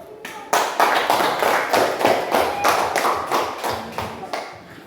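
A classroom group does a 'tepuk salut' salute clap for a presenting group, a brisk, rhythmic pattern of sharp, fairly close claps, repeated steadily for several seconds without talk.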